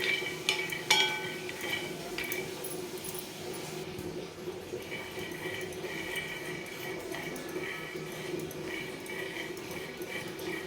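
A utensil scrapes and clinks against a pan as peanuts are turned over while they dry-roast slowly for chutney, with steady, fairly soft stirring throughout.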